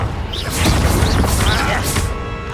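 In Hogwarts Legacy, a Confringo fire spell bursts in dull booming blasts amid combat noise during a goblin fight, while players shout excitedly over it.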